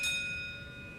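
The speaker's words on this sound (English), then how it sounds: "When you hear the bell" A single clear bell chime rings in a radio advert for an oil change service, its bright tone sustaining and fading over about a second.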